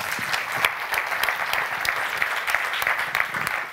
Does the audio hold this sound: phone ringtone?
no